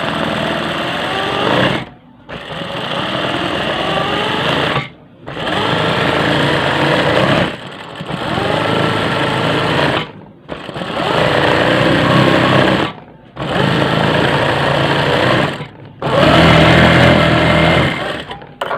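A sewing machine stitches a quilted line on a pillow cover at home, running in six steady bursts of a few seconds each, with short pauses between them. The motor whirs loud and close.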